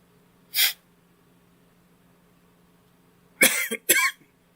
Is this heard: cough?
yes